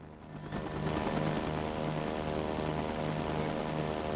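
Russian helicopter in the game Arma 2 Wasteland, its engine and rotor spinning up quickly and then holding a steady, loud, close drone with a rhythmic rotor pulse and no talk.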